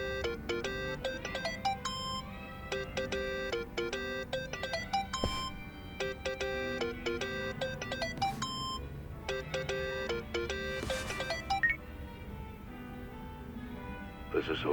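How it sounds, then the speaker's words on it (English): A mobile phone ringtone rings in Yakuza: Like A Dragon, a repeating bright electronic melody of beeping tones, with voices mixed in. "Think that's your phone, man."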